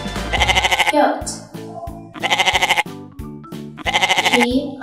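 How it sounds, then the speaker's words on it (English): A goat bleats loudly three times in long wavering calls spaced about a second apart, with a voice speaking in the gaps between them. "G-O-A-T, goat."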